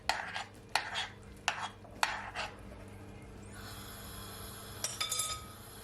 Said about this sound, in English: You want to just mix it all in